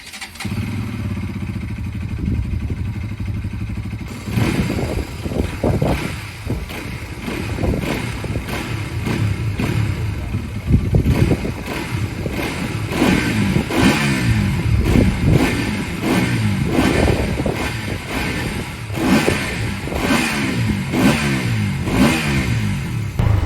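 A 2026 Bajaj Pulsar NS200 (E20) motorcycle rides through tight traffic with frequent gear changes. Its engine revs and drops repeatedly, close and loud, with a steady busy road noise underneath throughout.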